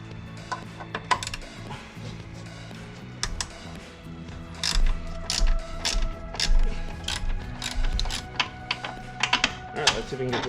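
A wrench works a 16 mm nut on the upper control arm of a Porsche Cayenne 958 (92A), the nut encapsulated inside the frame; close metallic ratcheting clicks and clanks come in irregular bursts with some speech nearby.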